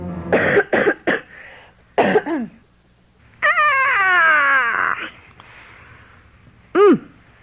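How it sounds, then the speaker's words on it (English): A person coughs in a few short bursts, then makes drawn-out whiny, dog-like vocal sounds, close and loud. "I'm going to cough."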